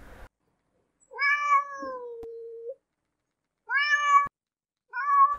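A domestic cat meows three times, close and clear against silence: a long drawn-out cry followed by two shorter ones with pauses between.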